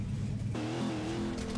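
A car in the video game Burnout Paradise revs loudly, its engine tone climbing sharply halfway through into a strained acceleration whine, with no voices over it.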